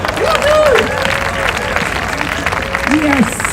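Audience at a National Day of Peace celebration in San Francisco clapping and cheering, with whooping voices rising over a steady bed of applause that stays loud throughout.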